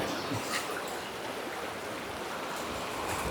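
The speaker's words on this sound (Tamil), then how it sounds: "அவ்வளோ ஸ்பீடாக போயிட்டுருக்கு தண்ணி" Fast water rushes through a canal near Thirumoorthy Dam in Tiruppur, a constant broad roar of flowing water, close and unbroken, with no voices.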